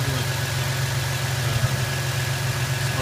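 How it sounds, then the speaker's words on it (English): A 1999 Toyota 4Runner engine idles close by, a steady low rumble that holds even and unbroken. "All right, we're idling now, so that took care of it."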